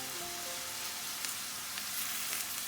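Peppers and green onions sizzle steadily in a pan for Guyanese fish choka, with a few soft stirring scrapes rising over the constant hiss, close and moderately quiet.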